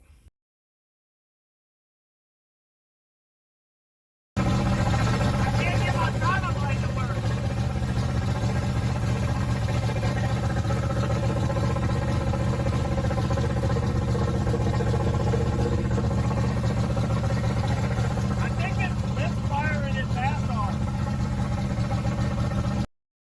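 An old Chevrolet squarebody truck engine fires up after a short silence and runs steadily at a loud, even idle for the rest of the clip, with faint voices now and then.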